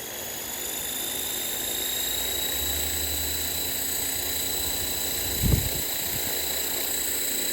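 Blade Fusion 360 RC helicopter running at 60% throttle, a steady high rotor and motor whine with constant tonal hum throughout, close and loud, with a brief thump near the end.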